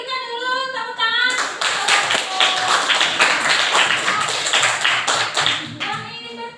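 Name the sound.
applause for presenting group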